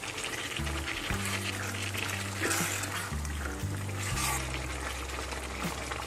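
Mutton karahi with salt, yogurt and no added water, cooking in its own juices in a pan, sizzling and bubbling steadily at close range over a low background hum.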